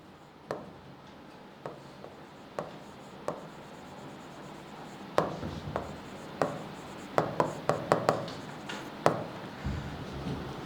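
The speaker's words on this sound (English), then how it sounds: "So here I write" Marker or chalk writing on a board during a university academic writing lecture: scattered short scratchy strokes and taps, sparse at first and then bunching into quicker clusters, fairly faint over a quiet room with no one talking.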